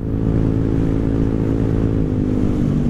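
A Rusi Rapid motorcycle fitted with a new aftermarket exhaust revs steadily up close, its loud, continuous engine note droning without a break and no talking over it.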